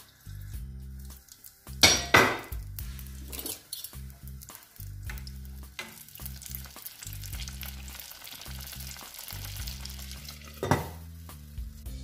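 Cream-filled bomboloni frying in hot oil, a continuous sizzle broken by clinks and scrapes of spoons and pan as the dough is turned, with a couple of louder clattering moments and no speech.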